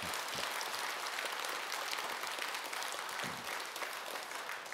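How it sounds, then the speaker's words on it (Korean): Steady, broadband applause from a temple audience at a Buddhist dharma service at Jogyesa, honoring the head monk; sustained, even clapping from many hands, fairly distant and soft. "우리 세민 주지 스님을 위하여 박수 한번 치세요"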